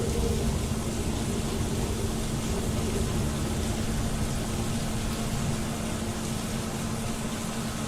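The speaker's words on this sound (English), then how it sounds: "it is raining cats and dogs out here" Heavy rain pouring down in Fallout London, a steady dense hiss filling the scene evenly with a faint low hum beneath, no voices.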